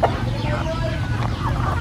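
Hens clucking inside a chicken farm pen, several birds making close, repeated rising clucks and short calls over a steady low hum, with a voice faintly present underneath.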